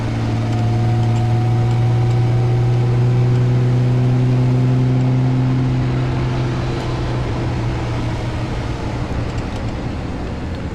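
A 1962 Austin-Healey 3000 is driven and downshifts on the road. Its engine drones loudly and steadily, with the pitch dropping and shifting as the gears change, and no one talks.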